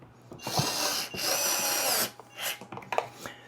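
A power drill driving screws while a Sunlu AMS heater/dryer is fitted onto a Bambu 3D printer, with two loud, close whirring bursts followed by shorter clicks and handling clatter.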